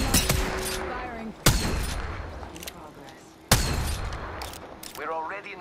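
Video game gunfire: sharp, close shots crack out in a few separate bursts, each followed by a decaying echo and scattered in-game sounds between them.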